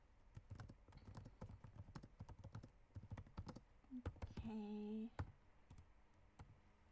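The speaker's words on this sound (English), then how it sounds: "I'll type it in." Rapid clicking of a computer keyboard being typed on during an online tabletop role-playing session, with steady, close keystrokes and a brief electronic tone partway through.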